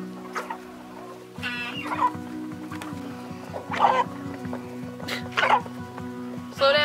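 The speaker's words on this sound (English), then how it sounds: "Just love chickens." Chickens cluck in several loud, close bursts over a steady low droning hum, with short gaps of quieter background between the calls.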